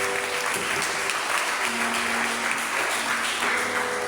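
Church congregation applauding during a Sunday worship service, steady sustained clapping from many hands filling the room with a faint voice underneath.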